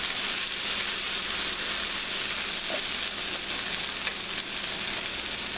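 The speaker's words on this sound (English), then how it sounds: "since I've added the green tomatoes, this will make it a little mushy. But if you don't add the tomatoes, it'll fry it more crisper" Sliced okra with green tomatoes frying in a pan, a dense, steady sizzle with crackling that continues evenly throughout, close and moderately loud with no talking.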